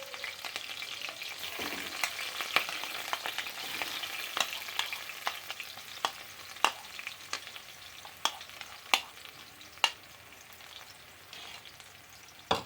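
Mashed wood apple pickle with green chillies is stirred in hot oil in a pan. A soft sizzle plays under intermittent spoon scrapes and taps that grow sharper and more spaced out toward the end, with no voice.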